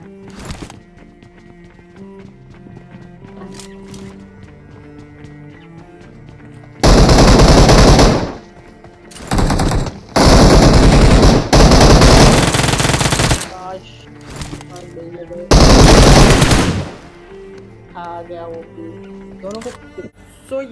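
Loud automatic gunfire in a squad battle game, several sustained bursts of rapid fire separated by short gaps, over a quieter background of game music and effects.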